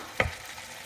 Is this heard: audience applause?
no